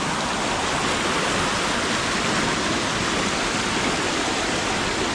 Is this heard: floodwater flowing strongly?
yes